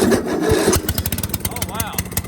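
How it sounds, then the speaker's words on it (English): A finishing mower's motor turns over after its standard-looking solenoid is jumped: a loud, dense churning burst, then rough rhythmic chugging continues beneath excited voices talking close by. "Okay, so the motor turns."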